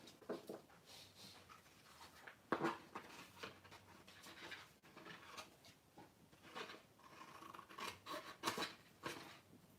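Scissors snip at paper being cut out for a scrapbook layout, a run of quiet, close cuts and rustles at an uneven pace, faint and without speech.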